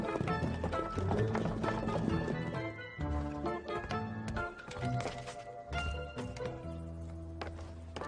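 Horse hooves clip-clopping at a run as a horse pulls a carriage, in a Tamil-dubbed period drama, with a steady galloping rhythm under busy music throughout.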